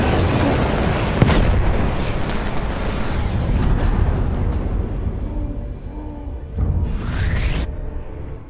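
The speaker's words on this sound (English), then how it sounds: "Grenade." A Battlefield 1 grenade detonating on the Storm of Steel battlefield, a loud blast amid thick war noise with crackling debris and later whooshes and pops, all close and heavy.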